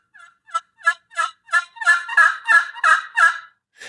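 Friction turkey call with a stone-etched glass surface being played, a near run of about ten rapid yelping gobble-like notes building in loudness, no talk.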